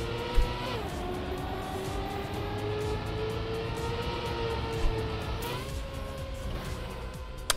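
Race cars in the Trackmania video game roar continuously at high revs, engine pitch rising and falling through gear changes and corners, with a couple of brief bumps, loud and steady throughout.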